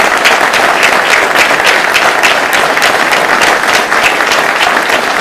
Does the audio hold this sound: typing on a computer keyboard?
no